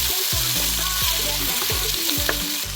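Onions fry in hot oil in a pan for a goat meat dish, giving a steady, loud broadband sizzle with repeated low scraping stirs of a utensil throughout.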